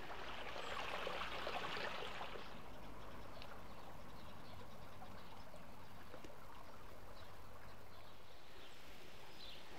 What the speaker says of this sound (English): the sound of the water is just so refreshing as well